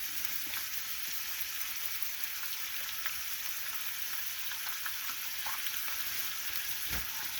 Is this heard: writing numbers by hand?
no